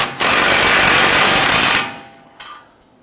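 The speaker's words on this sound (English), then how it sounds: "let's go ahead, tighten and torque our nuts" A power tool runs in one loud, continuous burst of about a second and a half, tightening suspension nuts on a 2011-2023 Dodge Charger during front ball joint replacement, then trails off into quieter shop noise.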